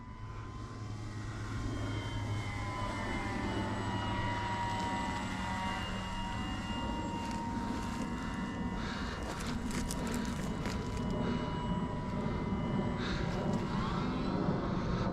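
A WOT 4 Mk1 model airplane carrying a camera drones steadily overhead in flight, its propeller engine buzzing loud and continuous with shifting harmonic whine.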